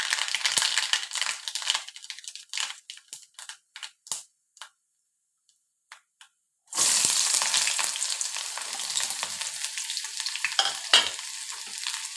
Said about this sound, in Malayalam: ഉള്ളിയൊക്കെ മൊരിഞ്ഞ് വന്നു.